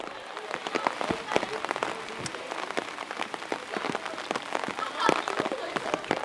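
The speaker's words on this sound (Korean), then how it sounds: "구름이 잔뜩 끼더니 비가 내리기 시작했다" Rain falling on surfaces outdoors on a cloudy day in Korea, a dense, close patter of drops with sharper individual splats throughout, steady and fairly loud.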